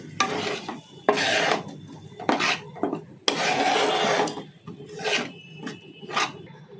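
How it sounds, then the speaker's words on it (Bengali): A spatula scrapes and stirs whisked sour yogurt into catla fish curry in a pan. The strokes come in repeated rasping bursts, close and clear, with short pauses between them and no talking. "ফেটিয়ে রাখা টক দইটা দিয়ে দেবো এর মধ্যে ভালো করে মিশিয়ে নেবো"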